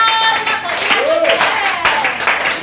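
Congregation in a church clapping and cheering, a dense continuous wash of hand claps with raised voices and shouts mixed in throughout.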